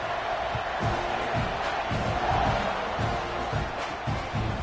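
Stadium crowd in an American football video game, a steady, dense roar of cheering and whooping that carries on throughout with rhythmic thumps underneath.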